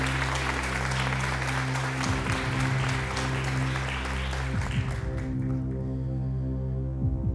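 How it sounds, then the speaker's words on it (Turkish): An audience applauds at a Quran recitation competition, a steady wash of clapping heard over a loud electrical hum that lingers after the clapping fades toward the end. "Alkışlarınız Faruk Kaya için."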